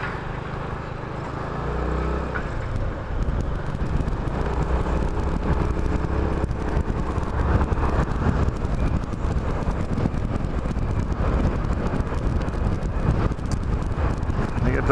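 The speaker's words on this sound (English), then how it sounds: "A lot of traffic yet, all over the place." Passing road traffic blends with strong wind rush and engine drone while riding a Yamaha Majesty scooter, a loud continuous roar without clearly separate vehicle passes.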